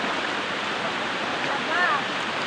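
A mountain stream rushes with a steady broadband wash of flowing water, continuous and fairly close, while a brief faint voice or bird note rises over it.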